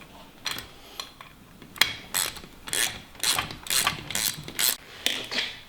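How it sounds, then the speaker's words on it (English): A hand ratchet loosening a clutch fastener on a Ski-Doo Gen 5 turbo snowmobile, a run of close, crisp clicking bursts in an uneven rhythm, growing denser toward the end. "I'll push and turn the ratchet at the same time."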